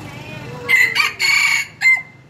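A rooster crows loudly and close by in a rural setting near a highway, its call breaking into a few strong, strained bursts across about two seconds.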